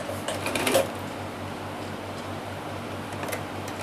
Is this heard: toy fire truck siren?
no